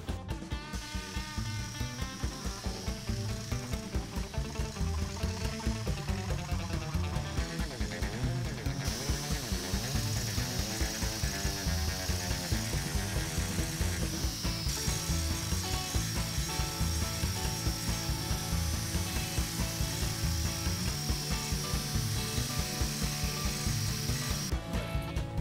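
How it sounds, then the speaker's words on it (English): A grinder works down a metal part on a garage project, a continuous harsh rasping with a rhythmic pulsing texture that holds steady and loud for the whole stretch, with small shifts in pitch as the tool bears in. "So we decided to grind it down a little and see if the voids went deep."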